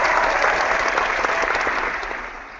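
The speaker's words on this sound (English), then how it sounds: "I just brought up the effects so I can give you a round of applause." Recorded applause sound effect: a steady wash of many hands clapping, fairly loud and even, tapering slightly toward the end.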